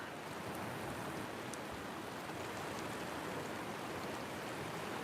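Heavy rain pours down steadily alongside rushing runoff water over ground that was dry half an hour earlier, a dense, unbroken wash of noise that holds loud and even throughout with no voices.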